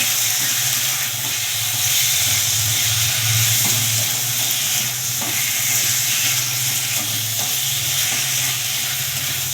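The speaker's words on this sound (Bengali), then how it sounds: "মাংসটাকে দিয়েও একটু কষিয়ে নেব" Meat sautéing in a pan with ginger for a curry, a loud continuous sizzle with a low steady hum beneath and occasional faint stirring clicks, no talking.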